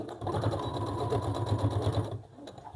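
A domestic sewing machine stitching a long skirt with pockets and a fly, its motor humming with a steady rapid needle rhythm for about two seconds before stopping, fairly quiet and close.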